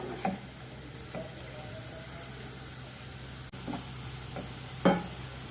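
Chopped garlic fries in a pan with a steady, soft sizzle. A few scraping stirs break through at intervals.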